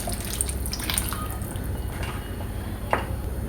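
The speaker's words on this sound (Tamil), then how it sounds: "இன்னும் கொஞ்சம் தண்ணி சேர்த்து ஒரு 5 நிமிஷம் மூடி போட்டு விட்டுக்கலாம்" Water trickles and drips into a pan of baby corn gravy, a light splashing pour with a few sharper drops, fairly close and with no talking.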